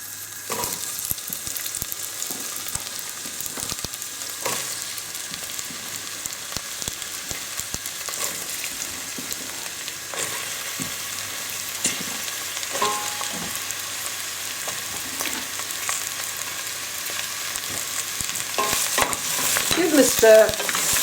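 Vegetables for a spicy low-protein stew fry in a hot pan with a continuous sizzle and occasional scraping stirs, steady and close throughout.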